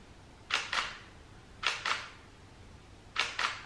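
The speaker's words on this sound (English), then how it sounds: "You can hear the shutter speed is so low." Camera shutter firing at a slow shutter speed, three separate double clicks, each open and close pair about a quarter second apart, crisp and close in a quiet room.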